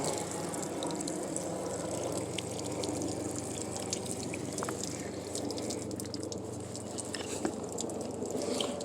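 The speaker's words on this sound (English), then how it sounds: "Let me get some water going. Get a little bit wet." Water runs steadily over a piece of petrified wood outdoors during lapidary work, a continuous close hiss and splash with a few faint drips and no talk.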